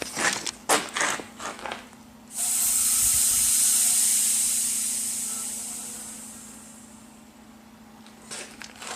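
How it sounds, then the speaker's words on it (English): Gas hisses steadily out of an oxy-acetylene cutting torch and its hoses as the lines are bled after the oxygen cylinder is closed, a loud, bright rush that fades slowly over several seconds, with clicks and handling sounds around it. "Then I'll just go ahead and bleed the gases out of the torch and out of the lines."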